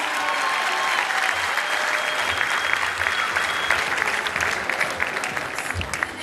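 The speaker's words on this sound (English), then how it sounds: "Come on, give them a huge round of applause." Sustained audience applause fills a court arena as family members are welcomed onto the court, a dense, steady clapping roar with crowd noise running throughout.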